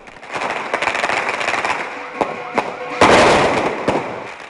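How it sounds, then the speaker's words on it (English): Firecrackers set off for Lunar New Year in a Hong Kong village, a dense loud crackle of rapid bangs with sharper louder bursts. "Many believe the sound of bangers can ward off evil spirits of the past year."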